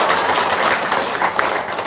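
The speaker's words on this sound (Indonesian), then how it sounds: "Tepuk tangan." A room full of people claps continuously at an even, moderately loud level, a short steady burst of applause with no pauses.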